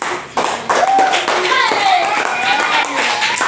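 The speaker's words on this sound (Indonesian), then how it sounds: "kita kasih aplaus buat teman-teman" Pupils in a classroom clap for classmates in a loud, dense round of applause that starts suddenly and holds for a few seconds, with children's voices calling out over it.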